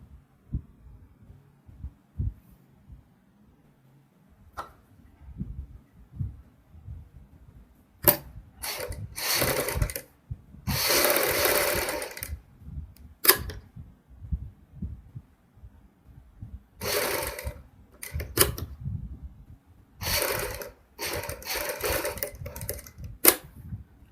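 A sewing machine stitches the neckline of a kurti in repeated short runs, quiet patches between bursts of fast mechanical chatter, fairly close and with no one talking.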